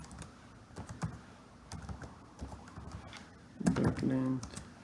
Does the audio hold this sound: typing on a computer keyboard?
yes